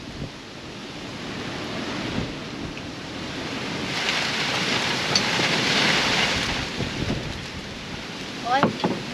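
Heavy rain pours in a steady dense wash, swelling louder through the middle with gusty rushes and a few nearby knocks and splashes toward the end.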